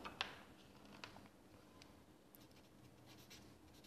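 A pen writes by hand during a maths lecture, making a few faint, close scratchy strokes near the start and then a soft, quiet scratching.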